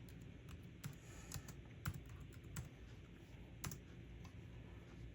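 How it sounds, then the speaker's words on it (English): Quiet typing on a computer keyboard: irregular light key clicks in short bursts, faint and nearby, with no voices. "I'm going to type in eyelash"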